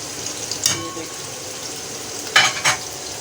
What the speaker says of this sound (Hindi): साथ ही मैं इसमें टमाटर डाल दूँगी।